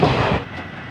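A Nagaland Express train runs along the rails in a steady, loud rumble of wheels and carriage noise, heard up close from inside a general coach for a brief moment without talk.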